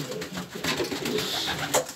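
Pigeons coo steadily at close range, a soft continuous murmur of several birds with a brief louder call near the end.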